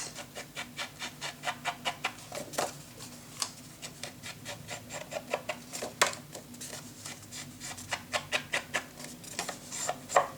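Repeated rubbing strokes of sanding or smoothing along the edges of a paper craft cabinet, a steady rhythmic series of soft rasping swipes, close and fairly quiet, with no talking.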